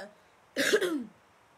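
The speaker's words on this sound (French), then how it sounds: "Je viens de sortir du Covid-19, donc vous allez m'entendre tousser." A single harsh cough from someone just recovered from Covid-19, short and close, breaking an otherwise quiet moment.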